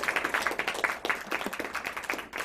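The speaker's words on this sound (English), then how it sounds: "Give our judges a round of applause for being here today." An audience applauds a row of judges at a high school science academic competition, a dense, steady round of clapping from many hands throughout.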